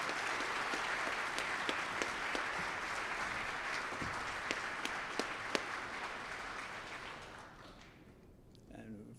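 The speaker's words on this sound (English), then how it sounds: "Let's give her another round of applause." Sustained applause fills a hall at an awards honors ceremony, with dense even clapping that slowly tapers off toward the end.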